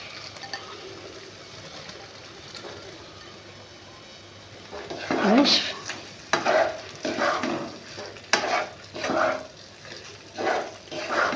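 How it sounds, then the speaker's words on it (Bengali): Drained, squeezed soya chunks are dropped into fried masala and stirred, a low quiet hum giving way halfway to a loud sizzle and repeated rough scraping strokes at an uneven rhythm. "এবার আমি এর মধ্যে সয়াবিনগুলো দিয়ে দেবো।"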